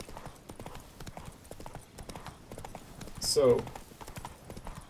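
Roach, the horse named Klepena in The Witcher 3, walking with steady clip-clopping hooves under continuous talk, with a brief louder snort or whinny near the end.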